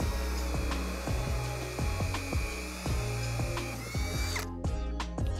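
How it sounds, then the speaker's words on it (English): A power drill whirs steadily with rhythmic pulsing as it bores a drain plug hole for a DIY hot tub, the tone strained and loud before winding down at the end. "Then drill a hole that fits the threads of your drain plug."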